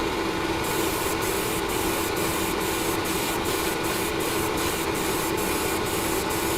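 Vallejo surface primer is sprayed in a wet coat onto a model: a continuous close airy hiss broken by brief regular pauses, with no talking.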